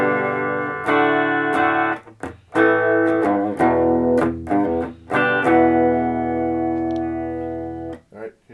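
A clean electric guitar tone, played with the Hyperion fuzz pedal's knobs at noon, rings out in a series of plucked chords and single notes, each sustaining and decaying clearly, loud and close with no other sound.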